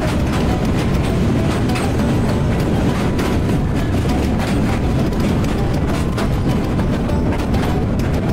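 Intercity Chattala Express crossing the Bhairab rail bridge on a double line alongside the Jayantika Express, a loud, continuous close rumble of wheels and rattling carriages with steady clatter throughout.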